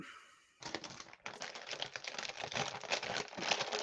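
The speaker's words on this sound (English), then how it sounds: "Let me get some crinkling. Got some crinkle action." A bag of Lay's ketchup chips crinkled and rustled up close, loud continuous crackling plastic that starts abruptly after a brief quiet moment and keeps going, with no speech over it.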